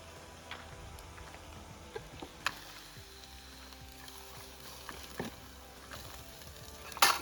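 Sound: jackfruit vegetable being sautéed on a wood stove

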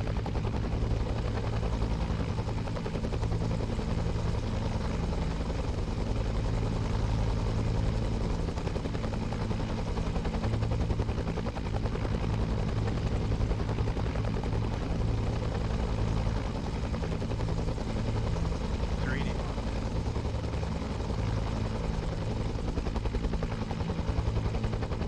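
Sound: helicopter taking off nearby

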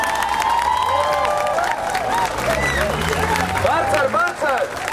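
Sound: audience applause

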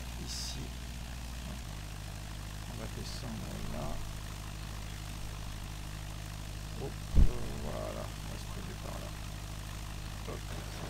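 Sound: airplane engine while landing, from a video game

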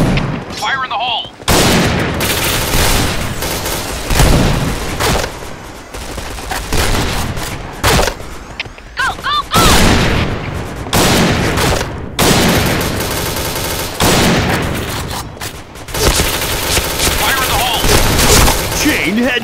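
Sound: grenade explosion and gunfire in a shooter video game

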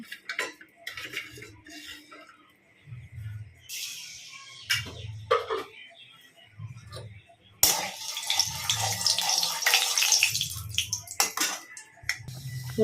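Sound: mutton curry with onion paste coming to a boil

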